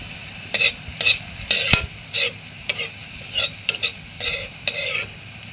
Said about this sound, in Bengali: তো বন্ধুরা, আমি এদিকে আলুটাকে ভেজে নেব।